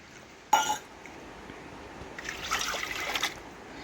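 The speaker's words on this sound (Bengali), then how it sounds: "এখন আমি পরিমাণ মতন জল দিয়ে দেব" Water is poured into a pressure cooker holding lentils for dal: a faint clink, then a soft, quiet trickle that builds briefly before fading, with no voices.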